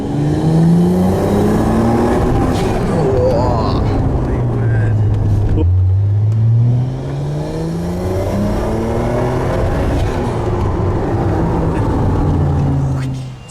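A Contera MD1 supercar with a 1JZ engine accelerates hard, its engine note climbing in repeated sweeps through the gears with a brief break between pulls, loud and close, while people talk over it.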